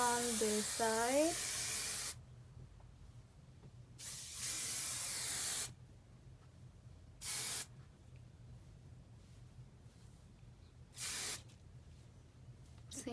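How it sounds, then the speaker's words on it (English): Hairspray misted onto curled hair in short bursts, the first longer hiss under a voice, then several brief sprays separated by pauses, close and fairly soft. "we're gonna go ahead and go in with our hairspray"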